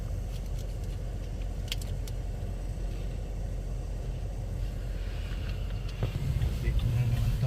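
Traffic streams along a busy street near a school and offices in Canada, making a steady wash of engine and tire noise with a few louder passing vehicles near the end.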